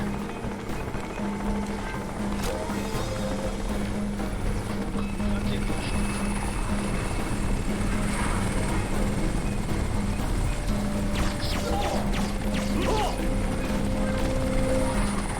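Helicopter landing in the PC shooter Crysis, its rotor drone steady and loud throughout, with gunfire and other game effects scattered on top.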